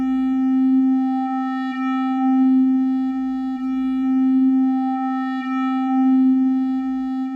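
A synthesized tone in FL Studio 20 with an EQ sweep placed after a compressor, so nothing clips: a steady, buzzy sustained note whose tone slowly swells and recedes in repeating sweeps, with no talking.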